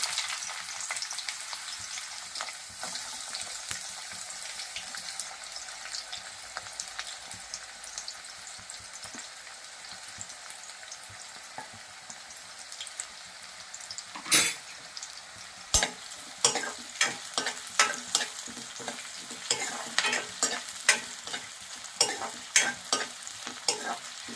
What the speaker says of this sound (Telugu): ఆయిల్ కాగింది. దీంట్లో ఉల్లిపాయలు వేస్తాను.